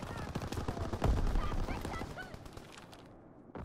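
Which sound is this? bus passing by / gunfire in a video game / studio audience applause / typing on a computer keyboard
gunfire in a video game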